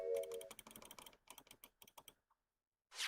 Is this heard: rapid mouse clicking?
yes